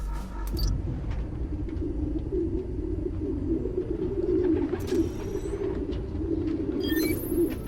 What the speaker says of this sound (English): Place was swarming with pigeons.